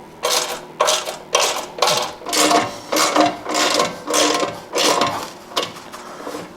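A ratchet loosening bolts on a Royal Enfield Himalayan motorcycle gives a regular run of about a dozen loud, close clicking strokes in a steady rhythm.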